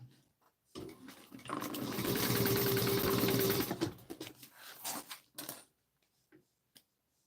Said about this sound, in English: And I'm just going to go across to that 1 inch mark and then back stitch.